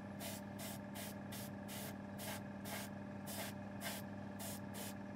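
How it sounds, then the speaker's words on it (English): An airbrush spray gun lays weathering onto a model train wagon in about eleven short, evenly spaced hissing bursts over a steady compressor hum, close and alone. "that is everything done with the spray gun."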